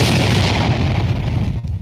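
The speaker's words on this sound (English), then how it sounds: "Let me put the explosion on. My usual explosion." A loud, rumbling explosion sound effect played during a live football stream, a dense booming roar that fills the clip and begins fading toward the end, with no voices over it.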